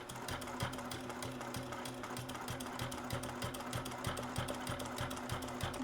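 A sewing machine runs steadily at close range, stitching down a fabric corner bookmark with a fast, even mechanical rattle of needle strokes, quiet and continuous without talk.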